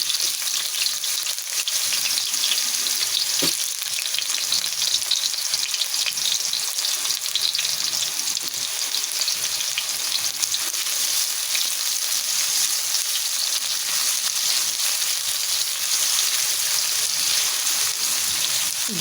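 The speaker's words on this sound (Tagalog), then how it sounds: "Gisa na po natin." Onion, ginger and garlic sauté in a hot pan for chicken in coconut milk, a loud, dense, continuous sizzle that holds steady throughout with no talking.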